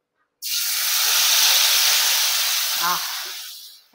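Ground spice paste hitting hot oil in a pan for sambar, giving a sudden loud, close sizzling hiss that holds steady for about three seconds and then fades, with a brief voice near the end.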